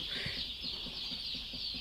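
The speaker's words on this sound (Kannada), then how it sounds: "ಇದು ಮುಲ್ಲಾ ಜವಾರಿ ನಾಟಿ ಕೋಳಿ ಸಾಗಾಣಿಕೆ ಕೇಂದ್ರದಲ್ಲಿ ಬೆಳೆಸ್ತಾ ಇರುವ ಮರಿಗಳು" Young native country chicks (naati koli) at a rearing farm peep in a steady run of short, high chirps, several overlapping calls close by over a constant hiss of background noise.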